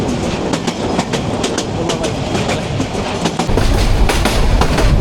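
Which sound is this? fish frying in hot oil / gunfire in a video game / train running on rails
train running on rails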